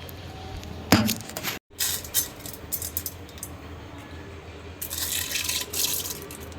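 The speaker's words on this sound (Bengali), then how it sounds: "ডালটা আমি এখন একটু ধুয়ে নেব" Chana dal being washed in a pot, with grains and water clinking and splashing in short rattling bursts, a brief silent gap, then steady sloshing swirls nearby.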